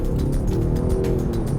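A 2022 Land Rover Defender 90 S P300 with a 2-litre turbo engine accelerates hard onto a freeway, heard as a loud, steady low engine drone with road roar from inside the cabin.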